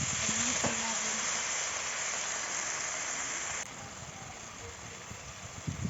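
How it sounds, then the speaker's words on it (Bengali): Spice paste of ground garlic, ginger and onion with turmeric, salt and tomato fries in a pan, giving a steady dense hiss that eases slightly partway through. "দিয়ে দিয়েছি হলুদ লবণ টমেটো। ভালো করে মশলাটা কষিয়ে নিব।"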